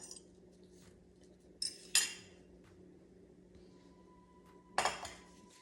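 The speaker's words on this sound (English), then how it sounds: "just take your fork and whisk that up" Eggs whisked with a fork in a bowl, heard as a few sharp metallic clinks of fork against bowl, spaced apart over a quiet kitchen background.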